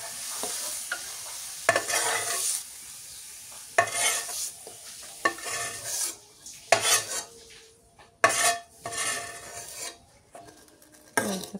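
Home-grown vegetables fry in oil in a pan while a utensil stirs them, giving a sizzle broken by loud, repeated scraping bursts at an uneven rhythm, close up and with no voices.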